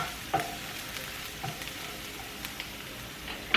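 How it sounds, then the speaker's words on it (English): Olive oil sizzles steadily in a frying pan as a utensil stirs it, with a few scraping taps and crackles over the continuous hiss, close and moderately loud, no one speaking. "We're going to give it another maybe teaspoon or so of oil. Stir that around a little."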